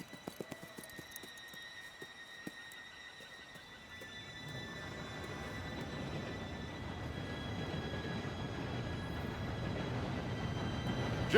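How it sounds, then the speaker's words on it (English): A train approaches in the Red Dead Redemption 2 video game, a rising rumble and rolling noise that grows steadily louder over several seconds, with thin high squeals above and faint clicks early on, no voices. "Train should be here any minute now."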